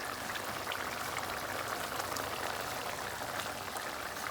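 Egg curry sauce simmering and reducing in a pan with eggs cooking in it, a soft, dense bubbling hiss that stays even and quiet from start to finish with no talking.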